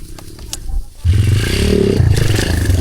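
An enduro motorcycle engine runs on a dirt trail, starting with scraping clatter and then settling into a loud, steady close-up engine drone.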